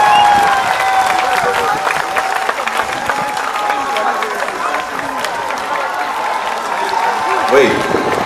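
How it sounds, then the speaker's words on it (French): Outdoor crowd at a Route du Rhum podium ceremony on Place de la Victoire in Pointe-à-Pitre applauds and cheers a winning sailor, a steady dense wash of clapping and voices throughout with some talk mixed in. "vous l'applaudissez bien fort"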